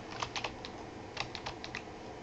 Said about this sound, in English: the first thing we'll do is just type hello world just to make sure everything's working